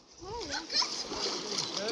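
Water splashing as someone jumps in outdoors, with continuous sloshing and spray over about two seconds, close and fairly loud, while people, including children, talk and shout nearby.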